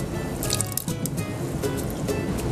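A small jar of maraschino cherries tipped into a pitcher of sangria with sliced apples, giving soft wet squishing plops and dripping syrup, close and steady throughout with no talk.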